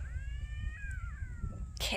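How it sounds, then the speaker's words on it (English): A cat meows along a rural trail in South Korea near a dirt road: one long, drawn-out, close meow over low outdoor rumble, ending with a brief rustle. "Cat's making a noise"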